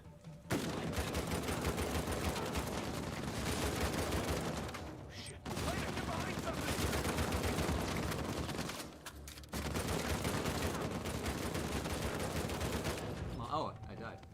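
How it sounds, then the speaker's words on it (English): Dense, sustained gunfire in the video game Uncharted 4 rattles on in long bursts separated by brief pauses, with players talking beneath the shooting. "Maybe it got destroyed by all those bullets flying at it."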